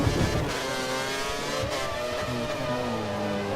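A racing car engine in a racing video game, running with DRS and KERS and just brushing the rev limiter, makes a loud, steady, high-pitched whine that holds near peak revs for the whole stretch with no talk.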